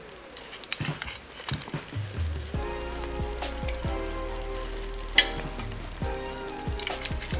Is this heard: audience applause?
no